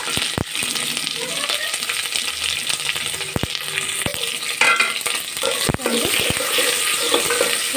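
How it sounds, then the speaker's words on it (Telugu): Chopped onions and green chillies fry in oil with cumin in a pan for pulao. A steady hissing sizzle runs throughout, broken by sharp spatula scrapes and clinks as they are stirred, close and fairly loud. "ముందుగా కట్ చేసి పెట్టుకున్న ఆనియన్స్ ఆనియన్స్ పచ్చిమిర్చి కూడా ఇలా బాగా ఫ్రై అయ్యాక"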